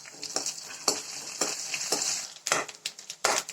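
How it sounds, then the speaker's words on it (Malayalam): Coconut pieces frying in ghee in a pan, a steady sizzle broken by repeated scraping stirs of a spoon, close and fairly loud, with no voices. "നമുക്ക് ആദ്യമേ തേങ്ങാക്കൊത്ത് ഒന്ന് വറുത്തെടുക്കാം"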